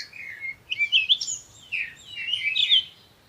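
Bright, high bird chirps and tweets come in quick clustered bursts over a faint low background, a sound effect in a Hindi folk story about a king turned into a bird.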